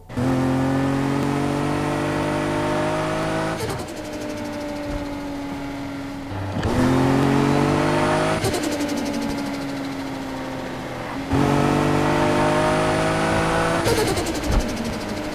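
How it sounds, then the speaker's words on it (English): Turbocharged car engine in the Need for Speed video game with a turbo flutter blow-off valve: three loud rev-ups, each ending in a sharp rapid fluttering chatter as the throttle lifts, no talk. "the ability to pick different blow-off valve sounds under the exhaust tuning menu. And here are some examples. Turbo flutter."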